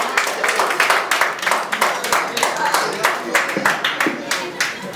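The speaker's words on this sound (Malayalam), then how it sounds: "നല്ലൊരു കൈയടി കൊടുക്കാട്ടോ ശ്രീ അനസ് റഹീം" An audience at an award event applauds actor Anas Rahim with loud, sustained clapping, a dense stream of sharp hand claps throughout.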